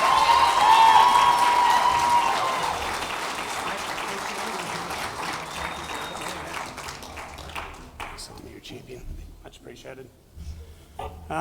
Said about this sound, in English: Please welcome Michael to the stage with rapturous applause